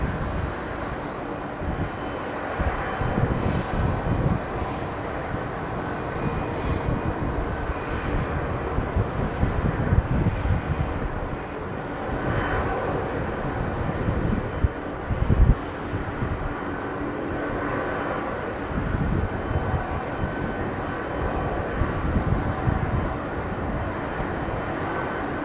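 A jet airliner with GE90-115B engines spools up to depart at London Heathrow Airport, giving off a deep, broad, steady roar that rumbles on at some distance with slight surges.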